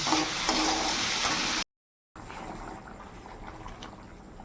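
Potato curry with added salt sautéing in a pan, a close, steady sizzle with stirring scrapes that cuts out briefly for a moment of silence, then resumes more softly.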